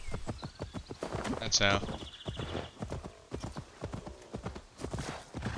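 Horse hooves clip-clop steadily at a walking rhythm in the video game Assassin's Creed Valhalla, with a brief whinny partway through, while someone talks quietly over the hoofbeats.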